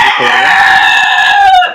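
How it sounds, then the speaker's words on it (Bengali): A rooster crows loudly and close by in one long, sustained call that lasts nearly two seconds and fades at the end, near a pigeon loft. "মোরগের জন্য হয়তো আমার কথা ঠিকমতো বোঝা যাচ্ছে না"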